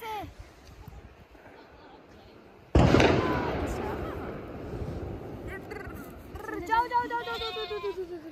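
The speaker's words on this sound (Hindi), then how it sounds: "छोटे छोटे मेमनों को लो बकरियों के बच्चों भेड़ों के बच्चों को और इन्हें पालो" Young lambs, goat kids and sheep bleat in a Barot valley village in winter, with a few wavering calls near the start and a cluster of bleats toward the end, following a sudden loud burst of noise partway through.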